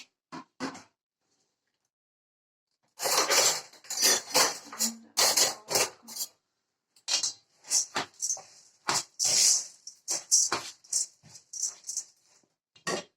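Hand-mixing washed rice with minced meat and plenty of onion for grape-leaf dolma, kneaded in a bowl in a village kitchen: close, irregular squelching and clattering bursts with short pauses, no talk.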